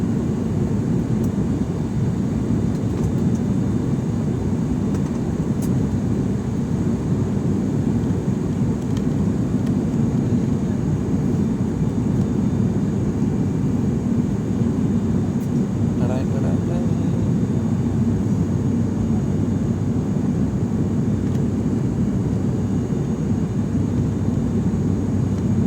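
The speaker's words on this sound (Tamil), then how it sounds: "எண்டில் வந்து கடைசியில் ஃப்ளைட்டு திரும்புது." Steady, loud drone of an airplane in flight near Mount Everest in Nepal, a constant low rumble that fills the whole stretch without letup.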